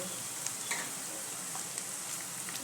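Vegetables for veg pulao, including chopped carrot, sauté in a pan until lightly browned. A steady, even sizzle carries on throughout with a few small ticks and scrapes. It sounds close and moderately quiet, with no voices.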